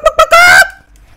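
A loud, close honking squawk from a player turned into a chicken in Black Ops 4, two short clucks then a longer drawn-out call that fades quickly.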